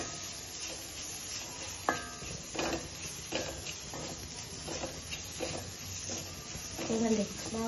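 Mushroom fried rice ingredients frying in a pan, a low steady sizzle with scattered scraping and stirring clatter from a utensil, close and moderately quiet, with a voice talking over it.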